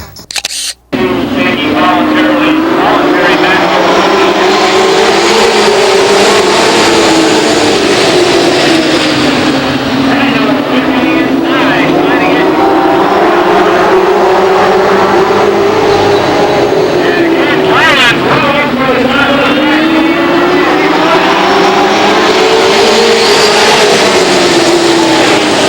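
Late model stock cars at a 1993 Lake Geneva Raceway feature race start, their engines rising and falling in long swelling waves as the pack circles, loud and continuous, with a commentator's voice over the roar.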